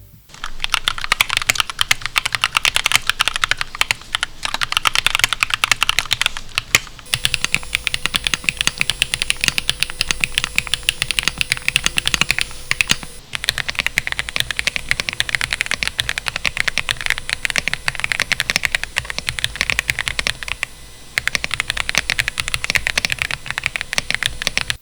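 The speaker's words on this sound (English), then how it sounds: "For sound test, I'm going to put it up against 2 of my keyboards." Fast, continuous typing on mechanical keyboards, a sleeper-modded RK61 and a Gravastar K1 Lite, gives dense, close, clacky keystrokes with brief pauses between stretches.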